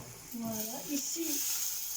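Food sizzles steadily as it heats in a pan, a soft, continuous hiss at a moderate distance, while a person speaks over it in the foreground.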